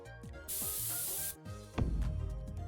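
A deodorant spray attack in a visual-novel-style game gives a single loud, hissing aerosol burst lasting under a second, followed by a sharp impact thud over background music.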